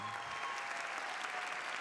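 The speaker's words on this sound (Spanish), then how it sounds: "Vamos con el aplauso." An audience at a film festival opening ceremony applauds, a thick, even wash of many hands clapping without pause for the whole stretch, slightly distant and filling the hall.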